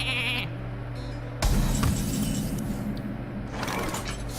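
Sheep bleats from a Hearthstone transform-into-sheep card effect sound out clearly in a game, a wavering cry that stands alone over a steady background tone.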